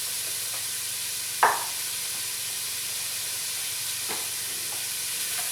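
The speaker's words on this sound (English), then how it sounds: "Don't need to caramelize, we just need to sweat the onion out a little bit." A whole yellow onion sweats gently in a pot over moderate heat, giving a steady soft sizzle and hiss with a single brief stir-like clatter early on and faint scrapes later, no voices.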